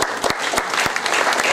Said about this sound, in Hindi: फिर भी ताली बजाओ